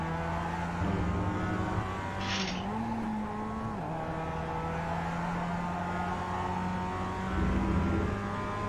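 Race car engine in iRacing's Global Mazda Cup at Okayama, a steady droning hum with shifting pitch and brief tire noise, loud and continuous with no talk.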